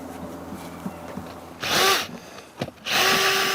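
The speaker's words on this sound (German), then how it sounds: "bohrt 2 Löcher" A power drill bores two air holes into the base of a clay iron-smelting furnace at an outdoor fire pit, with two loud whirring bursts separated by quieter knocking and handling sounds.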